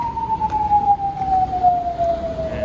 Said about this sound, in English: You might be able to hear police sirens and garbage trucks and that.